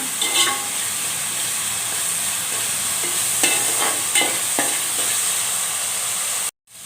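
Sliced onions with salt fry and sizzle in a pan for a Telugu prawn and gongura curry, a constant hiss broken by several clattering stirs of a spoon against the pan before it cuts off abruptly.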